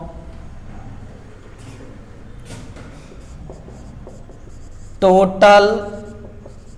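Writing on a board during a basic physics lesson: scratchy strokes come and go under a teacher's speech, ending in a louder burst of quick strokes.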